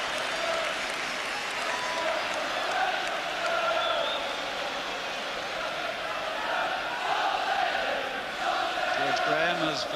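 Crowd at Highbury during an Arsenal versus Tottenham Hotspur football match, a loud continuous roar of cheering and shouting that swells and dips throughout the stadium.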